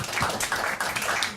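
An audience in a dark room at a comedy storytelling show claps and applauds steadily and fairly close, a dense patter of hands with no voices on top.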